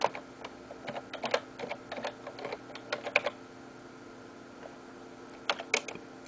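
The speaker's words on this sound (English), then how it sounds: "at Google type in transbar." Close computer keyboard typing in quick, uneven bursts of crisp key clicks with short pauses, as a web search is entered; no voices.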